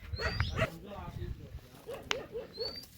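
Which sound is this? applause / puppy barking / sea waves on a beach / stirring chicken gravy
puppy barking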